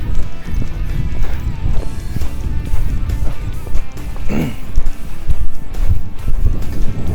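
Horse loping in a working session, hooves beating in a steady rhythmic clip-clop close by, with wind noise and a brief whinny-like sound partway through.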